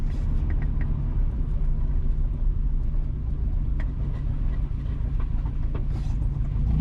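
A car driving west along a road in Johnson Town, Kingston, Jamaica, heard as a constant low engine and tyre rumble from inside the vehicle with faint passing rattles.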